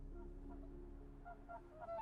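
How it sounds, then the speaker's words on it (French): Whooper swans calling in a Russian reed-bed wetland in autumn, giving a few honking, goose-like notes over a steady low background drone. "Les cygnes chanteurs viennent passer ici l'automne et l'hiver avec leurs oisillons."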